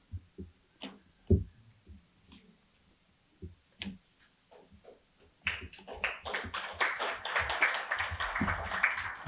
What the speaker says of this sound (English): You don't need to clap for every poem